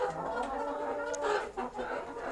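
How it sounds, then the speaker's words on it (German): Several chickens cluck and murmur continuously inside a henhouse, a steady close chorus of hen calls with no talking. "Die neuen Hühner haben sich recht gut eingelebt"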